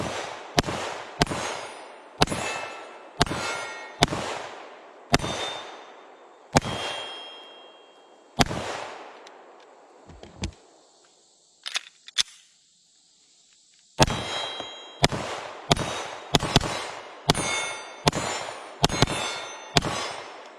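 Walther PDP Pro pistol shots hitting steel targets: a string of sharp reports with clanging rings, fired in quick bursts, a gap with a few faint clinks, then another rapid run of shots.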